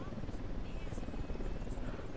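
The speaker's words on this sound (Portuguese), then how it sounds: "Que droga, helicóptero." A helicopter's rotor in the video game Ghost Recon Wildlands thrums steadily overhead, a constant droning whir, with a voice talking faintly underneath.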